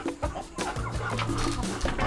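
A broody turkey sitting on eggs on a homestead clucks in a run of close, steady calls that overlap continuously with other farmyard fowl sounds.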